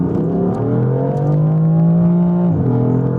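BMW M3 F80 engine pulling hard down a straight, a steady rising drone, loud and close, with a quick drop as the revs fall at a shift near the end.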